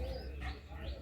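Pigeons in a home loft in Howrah, show-quality Madrasi and Andhra breeds, give soft low coos over a steady hum of background noise, with a brief chirpy call mid-clip.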